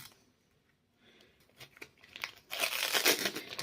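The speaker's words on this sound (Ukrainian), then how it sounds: "Чистимо ковбаску" The plastic casing being peeled off a sausage for a quick salad: faint crinkles at first, then louder, close-up crackling and tearing that continues to the end.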